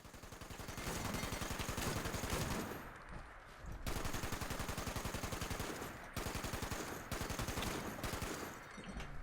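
Rapid automatic gunfire from Fallout 76 rattles in long, dense bursts with a few brief pauses between them, loud and continuous with no talking.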